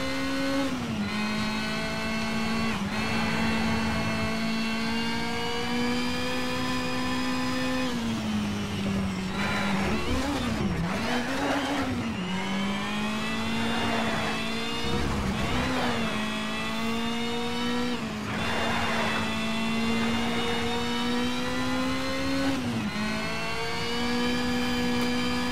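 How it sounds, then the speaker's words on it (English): A race car engine in Need for Speed Shift holds near redline with a loud, sustained, buzzing whine, its pitch dipping and climbing through repeated gear changes and lifts, with no voices. "I just love that red line sound. No matter what car it is,"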